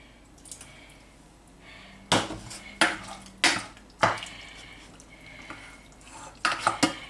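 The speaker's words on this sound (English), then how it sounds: "Give that a stir." Fresh salmon being stirred in a pan with a utensil, several sharp metallic clanks and scrapes against the pan standing out over a faint background with short quiet gaps between them.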